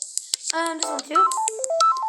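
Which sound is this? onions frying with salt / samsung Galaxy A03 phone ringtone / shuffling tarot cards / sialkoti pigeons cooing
samsung Galaxy A03 phone ringtone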